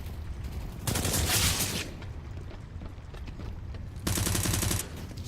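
Sprays of automatic gunfire in Counter-Strike on the Overpass map during a professional match, two loud, rapid bursts about a second long separated by quieter rumbling game noise, with no talk.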